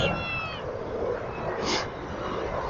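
A cat meows a few times at people on a street in Guangzhou, against a busy background with some faint voices nearby.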